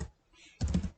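Short burst of typing on a computer keyboard while building a table in Word: a brief clack, a pause, then a quick cluster of several keystrokes close to the microphone.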